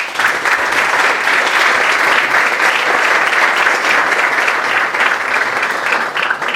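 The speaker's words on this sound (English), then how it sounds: "but big applause for Andrey." A large audience applauding at an investor event, a dense, loud, unbroken wash of clapping that holds steady throughout with no voices over it.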